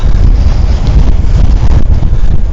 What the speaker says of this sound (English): Oh, it's so windy here.